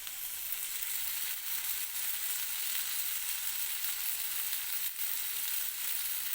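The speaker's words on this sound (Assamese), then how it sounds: "আলুখিনি ধুনীয়াকৈ ভজা গ'ল" Potatoes frying in a pan give a steady, close, hissing sizzle that carries on evenly throughout without any talking.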